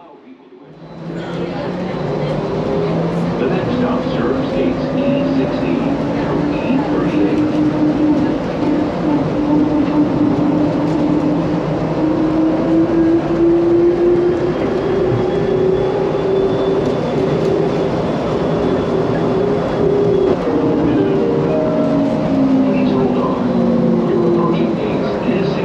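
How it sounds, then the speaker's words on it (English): Interior of a moving Skylink automated airport people mover train, a steady rumbling hum with a rising and falling motor whine after it pulls away. "I'll catch a quick ride on the Skylink train down to the next stop"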